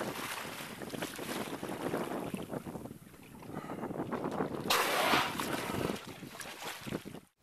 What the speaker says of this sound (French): Le bateau est comme un bouchon sur l'eau.